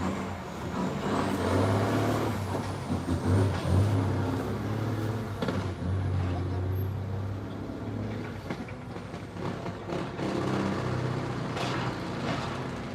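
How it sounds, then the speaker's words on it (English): Tractors dig up soil and vegetation along a roadway being widened to four lanes in Montego Bay, Jamaica, a loud continuous diesel rumble with clanking and engine surges, steady throughout and free of talk. "tractors are here busy digging up the roadway, removing all of that soil and vegetation"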